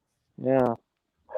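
A dog gives a short bark or yelp, fairly close and clear, followed by a pause and then the start of a voice.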